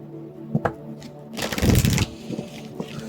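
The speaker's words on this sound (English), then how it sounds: "we're gonna go ahead and start shuffling" Tarot or oracle cards being shuffled for a general collective reading, a quiet stretch of soft riffling and tapping with one denser, louder burst of card flutter in the middle.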